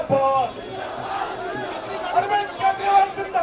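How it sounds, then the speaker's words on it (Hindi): Party workers crowd around Delhi Chief Minister Arvind Kejriwal after his release from Tihar, loudly chanting slogans in a steady rhythmic cadence, many voices together and close by. "नारेबाजी चलिए जरा सुन लेते हैं"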